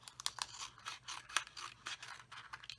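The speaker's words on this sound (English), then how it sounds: "it looks like I'll need to trim a little bit more off of this end." Scissors trim a paper card for a birthday card frame, with several quiet, crisp snips and scrapes in an uneven rhythm up close in a quiet room.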